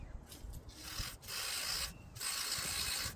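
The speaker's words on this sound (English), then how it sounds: "I'm just gonna spray some electrical contact cleaner here to clean the connector from inside" Two hissing bursts of aerosol electrical contact cleaner sprayed into a Toyota temperature sensor connector, each lasting about a second, separated by short pauses, close to the microphone.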